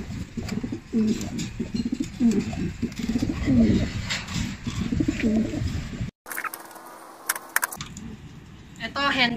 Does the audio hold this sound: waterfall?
no